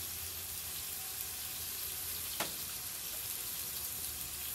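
Garlic sizzles in a frying pan while cooking smoke herring buljol, a soft steady hiss close by, broken once by a brief sharp scrape midway, with no talk.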